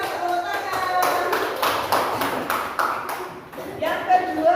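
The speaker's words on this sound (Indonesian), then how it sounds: "Luar biasa, tepuk tangan." Students in a classroom clap together in a steady, rhythmic unison beat, about two claps a second, with voices chanting and calling over the clapping throughout.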